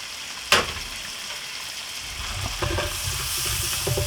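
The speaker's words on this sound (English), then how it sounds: "take an onion that you chopped into slivers and add that to the pan." Onion slivers dropped into a hot pan, a sharp hiss as they hit, then a steady close sizzle with light stirring scrapes.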